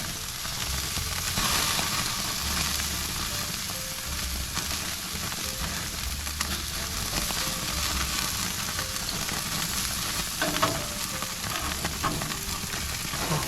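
Food frying in butter in a hot pan gives a steady, dense sizzle that runs unbroken and close up, with a faint low hum underneath and no one talking.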